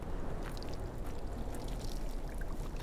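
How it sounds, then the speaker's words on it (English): Air bubbles steadily out of a loose joint on scuba gear, a continuous close gurgling and rushing of water with no pauses and no voices. "It'll make little bubbles if there's a leak."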